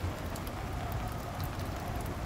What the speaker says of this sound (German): Mit dem Windsound im Hintergrund. Und dem Regen.